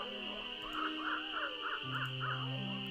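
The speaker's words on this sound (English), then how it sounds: "Those are some new bird noises." Repeated cawing bird calls in the video game Nancy Drew: Ghost Dogs of Moon Lake, about six evenly spaced crow-like caws over a steady ambient hum, moderately distant and alone.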